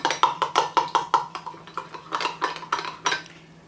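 A metal spoon stirs milk and cocoa powder in a pot, giving a rhythmic series of bright clinks against the sides, about a dozen evenly spaced strokes, loud and close with no talking.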